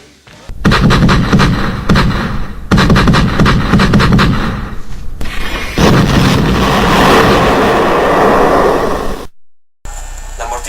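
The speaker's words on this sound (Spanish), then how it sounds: "Artillería" Heavy World War I siege cannons fire again and again, producing loud, close, booming blasts in rapid irregular bursts with rumbling aftershocks. The barrage ends in sudden silence, then a short tail follows. No speech is heard.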